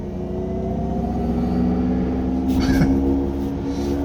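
Synthesized Vivid Flux drive sound from a 2023 Mercedes-Benz EQE350 Plus electric car in sport mode on a winding road, a steady layered humming tone over road rumble inside the cabin.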